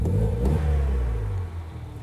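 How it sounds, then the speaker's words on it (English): A MINI Cooper fitted with a Sprint Booster throttle controller accelerates at full throttle, its engine note a loud, sustained droning roar from inside the car that eases slightly as the pull settles. "And we've got really good acceleration."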